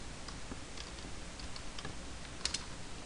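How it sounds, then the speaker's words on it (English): Light, irregular clicks of typing on a computer keyboard, quiet and close, with a short burst of sharper taps near the end and no talking. "In the URL bar, type in mozilla.com."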